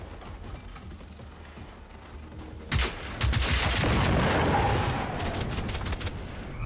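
Gunfire in the video game Generation Zero: after a quiet stretch of mechanical clicking, a sudden loud burst of rapid shots erupts and sustains for a few seconds before easing off, with no talking.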